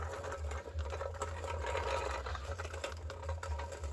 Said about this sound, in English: just rolling it around was really loud